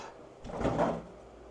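Door of a food dehydrator with trays closing, a single soft, brief thump-and-slide, faint and close.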